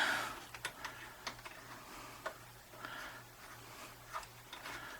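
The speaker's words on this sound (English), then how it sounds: "Yeah, it's screwing right in there." Faint, irregular small clicks and ticks come from screwing a BNC adapter onto a Fluke bench DMM, close-up and quiet over a low steady hum, with no talking.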